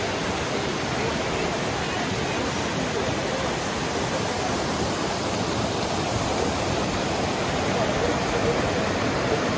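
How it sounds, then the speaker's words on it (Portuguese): Steady, dense rush of a waterfall beside a hiking trail in Aparados da Serra National Park, a constant broadband roar filling the whole clip with no breaks and no voices over it. "Tem algumas cachoeiras bem bonitas também no meio do caminho"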